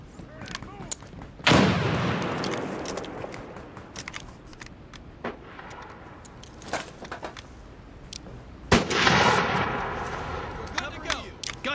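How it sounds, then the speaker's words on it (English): Frag grenade blasts and gunfire in America's Army: Proving Grounds, with two loud, broad explosions a few seconds apart, the second one longer, and scattered sharp shots between them under faint voices. "Tossing frag."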